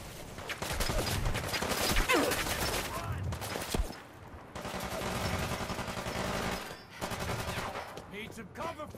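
Rapid gunfire and scattered bursts from a Fallout 4 firefight, with repeated shots in clusters across the clip under game music and ambience, briefly pausing before more shots resume.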